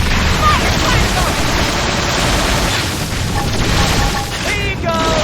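A Fire Carnival attack in Xenoblade Chronicles X sets off a dense, continuous wall of explosive booms and crackling bursts, loud and close, with brief combat calls over the din.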